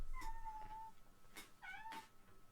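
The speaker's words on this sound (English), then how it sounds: "My cat would like to narrate as well." A grumpy house cat meows nearby: one drawn-out complaint, then a quick rising chirp and a longer warbling meow. The sounds are fairly quiet, with faint rustling between them.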